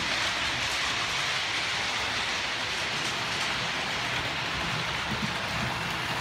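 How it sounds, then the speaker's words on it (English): Model trains run over newly laid main-line track on a model railway, a steady, close rolling rush with no clear breaks and no talk. "Trains are running on the new tracks, new main lines."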